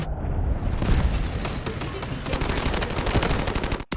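Sustained automatic fire from an AK-12 rifle in the mobile shooter Delta Force Mobile, a loud, dense stream of shots running nearly four seconds before cutting off abruptly, with faint battle noise beneath.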